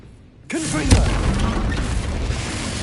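A Confringo fire spell in Hogwarts Legacy erupts in a sudden loud blast, followed by a sustained roaring rumble that holds steady for the remaining seconds.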